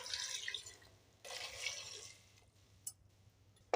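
Water is poured into a pressure cooker holding whole potatoes and a spoonful of salt, giving two soft, splashy bursts of pouring and a faint clink near the end, all quiet and without talk.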